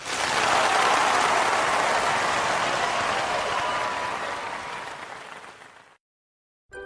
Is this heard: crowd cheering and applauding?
yes